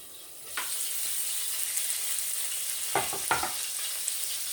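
Salmon pan-frying in a skillet, giving a steady bright sizzle throughout with a few louder crackling bursts near the end, close and alone with no talking.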